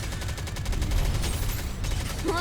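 Soda, a character in the mobile shooter NIKKE, fires rapid gunfire in a dense, continuous volley of loud shots mixed with game effects, with no breaks across the whole stretch.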